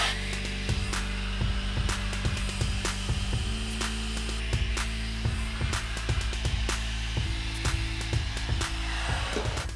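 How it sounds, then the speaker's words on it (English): Hair dryer blowing hair dry, a loud continuous whirring hum with rhythmic low pulsing and brief clicks, no talking. "I'm just going to blow dry now."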